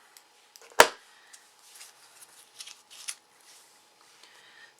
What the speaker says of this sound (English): So I'm going to cut this one in half